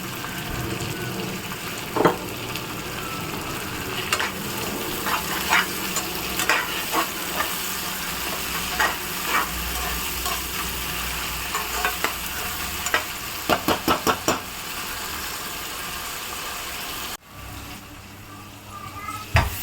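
Onion and tomato sauté in a pan with salt for a three-fish curry, giving a steady close sizzle with scattered scraping stirs and clicks of a spoon, then a brief quieter pause near the end.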